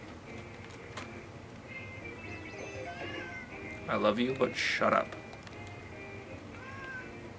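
A pet cat meows loudly and close by in a short run of insistent calls, with a person speaking before and over the cries.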